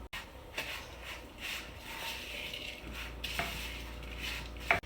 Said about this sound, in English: I'm stirring this, but I'm trying not to mash it too much because I don't want to break up the crab real bad